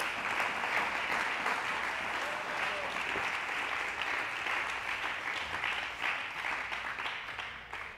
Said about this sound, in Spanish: Dele ese aplauso fuerte al Señor.